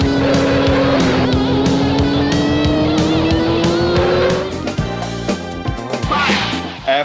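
Arcade racing car from Sega's Turbo Outrun, with a loud, steadily rising synthesized engine whine, screeching tire skids and busy game effects that fade into a choppier stretch near the end.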